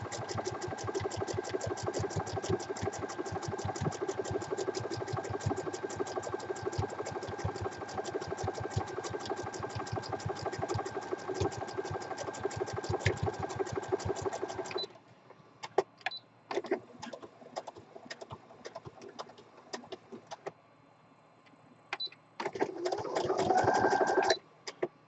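A sewing machine runs a fast, steady stitch line through a pillow for about fifteen seconds, then gives way to scattered clicks and handling noises before a brief final burst of stitching.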